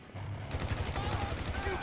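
Rapid gunfire from weapons in the video game GTA 5, a dense stream of low thumping shots running steadily under game noise and faint talk.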